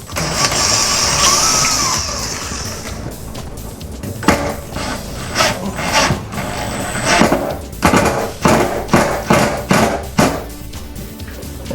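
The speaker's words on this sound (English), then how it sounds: "We begin by drilling a little pilot hole." A drill bores a small pilot hole for a closet shelf support, heard as a series of short, loud, rhythmic whirring and grinding bursts close by, following an initial steady mechanical whine.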